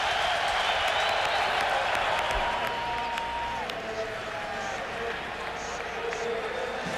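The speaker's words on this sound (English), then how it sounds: "Jet crowd trying to cheer on this defense in a 3rd-and-1 situation for Pittsburgh" A large stadium crowd at a New York Jets home football game against Pittsburgh, a dense, sustained roar of cheering and noise filling the air evenly, distant and washed together with no single voices standing out.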